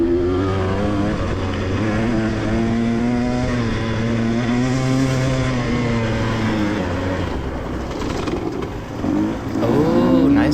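Close, loud two-stroke dirt bike engine revving and racing around a fun-pit motocross track with other bikes behind, pitch rising and falling steadily through corners and throttle changes, with a brief dip near the end.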